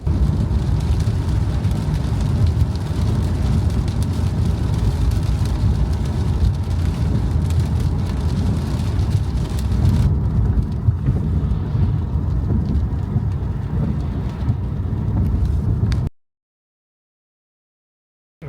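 Steady rain falls outside during a road trip in America, a continuous dense patter with low rumbling that softens partway through and then cuts to silence near the end.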